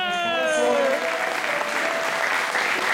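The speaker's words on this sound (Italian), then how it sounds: "l'applauso ci vuole" Audience applause breaks out at a theatre concert with an orchestra in Limena, Teatro Falcone Borsellino, a dense continuous clapping that holds steady, while a sustained vocal or musical tone trails off at the start.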